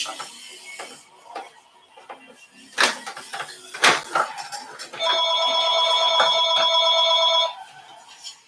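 A telephone rings steadily for about two and a half seconds, loud and close, after scattered clicks and mechanical knocks.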